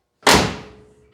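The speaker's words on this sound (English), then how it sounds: "Let's close the door and see what it looks like." The heavy door of a 1962 Cadillac Series 60 Fleetwood, under bodywork repair for its lower door section, shuts with a single solid, close thunk that rings briefly and fades.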